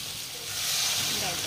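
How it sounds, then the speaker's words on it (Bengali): Dal lentils hit a hot pan and set off a broad, hissing sizzle that swells louder partway through and holds steady, close and dense. "ডালটা এতে দিয়ে দেব"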